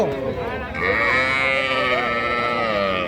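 A young calf at a rural cattle market in Bangladesh bleats in a drawn-out, wavering call that carries on for several seconds against a busy crowd of people talking nearby.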